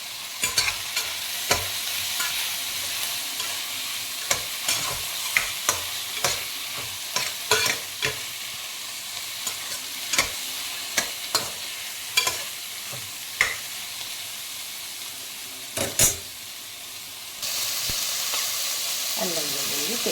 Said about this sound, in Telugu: మీల్ మేకర్ కూడా వేసి సాటే చేద్దాం